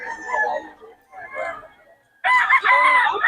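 A rooster crows loudly and close, in a couple of drawn-out calls, the last one strongest.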